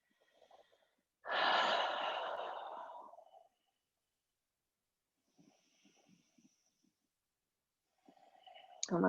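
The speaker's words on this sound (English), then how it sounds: "Take some deep breaths here." A long, deep inhale-exhale breath during a gentle yoga stretch, strong and close for about two seconds. Soft shuffling and faint breathing follow, and a sharper breath comes at the end.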